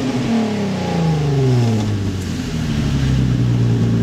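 Infiniti G35 engine fitted with BERK resonated test pipes revs hard and steadily, a loud, continuous exhaust roar with rising and falling pitch sweeps close by, no talking.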